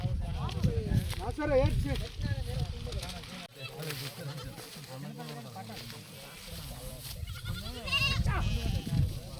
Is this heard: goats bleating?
yes